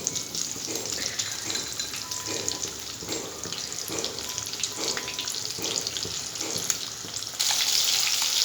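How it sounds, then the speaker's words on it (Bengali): Rohu fish pieces coated in salt and turmeric fry in hot oil, giving a steady close sizzle with a faint rhythmic scrape, growing louder and brighter near the end. "এখন আমি ওগুলোকে লাল লাল করে ভেজে নেব।"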